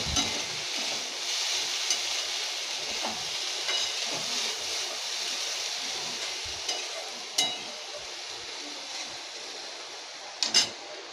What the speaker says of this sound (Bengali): এবার আমার এগুলো অনেকটাই ভাজা ভাজা হয়ে আসছে